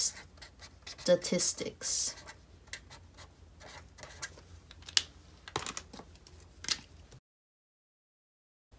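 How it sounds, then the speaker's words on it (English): A Mildliner highlighter pen writing in a Happy Planner habit tracker, close quiet scratchy strokes in short bursts, with a person speaking briefly between them before the sound cuts to silence. "Let me grab a mild liner and I'm gonna write that."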